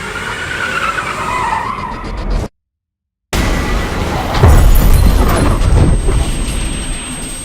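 A Honda Civic skids at speed with loud tire noise, cuts to a brief silence, then a heavy crash and tumbling impact as it hits an oak tree and flips, roaring close and loud.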